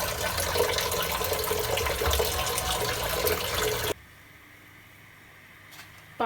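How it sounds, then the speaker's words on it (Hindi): Tap water gushes steadily into a pan being filled for boiling spaghetti, a loud continuous splashing rush that cuts off abruptly after about four seconds, leaving a quiet room. "पानी से फिल करेंगे"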